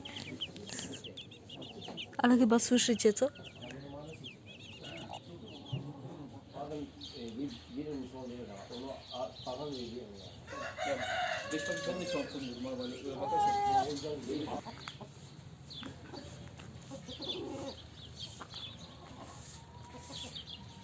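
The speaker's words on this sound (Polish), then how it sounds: "Tam jest kwoka z małymi." A hen with her chicks clucks in a Turkish village, faint and intermittent behind people talking and other nearby voices.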